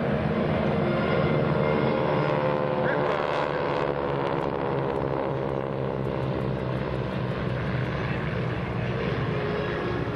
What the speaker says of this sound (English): I'm not sure if Larry's flying the bamboo bomber today or whether he's flying the B-25 out there